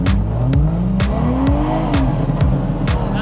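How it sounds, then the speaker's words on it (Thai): A car drifting through a figure eight revs hard and loud, engine pitch sweeping up and down again and again with sharp bursts between shifts and a constant roar close by. "เราปล่อยคันเร่งเร็วเกินไปกับพวงมาลัยเลี้ยวซ้ายเลี้ยวซ้ายเลี้ยวซ้ายเร่งเร่ง"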